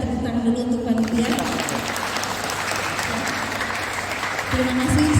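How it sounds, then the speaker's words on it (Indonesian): Audience applause for the organizing committee at a large alumni reunion, dense steady clapping from a crowd filling the whole stretch, with brief speaking voices near the start and end. "Tepuk tangan dulu untuk panitia."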